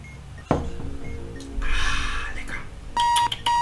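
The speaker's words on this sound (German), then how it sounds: "ich muss diesen bescheidenen Wecker wieder ausstellen, sonst kriege ich hier Tinnitus" A bomb-defusal video game's alarm clock rings in loud, steady electronic beeping bursts near the end, after a thump and some rustling, with a faint murmur behind.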